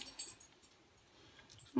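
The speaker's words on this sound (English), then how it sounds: "My dogs are here. Go away, dogs." Dogs in a home crafting room make faint, soft whimpering noises with light jingling and rustling, quiet and fairly close, and nobody speaks.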